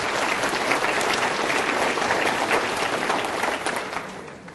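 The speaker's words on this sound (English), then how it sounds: "let's give them a round of applause because that was quite a task" An audience at a State of the City address bursts into dense, sustained applause that holds evenly for a few seconds before starting to taper off at the end.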